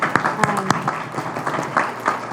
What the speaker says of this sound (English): please applaud if you want to